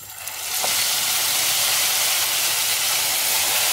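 A pot of traditional Turkish Alaca soup boils hard with a dense, steady bubbling hiss that swells quickly and then holds, close and loud.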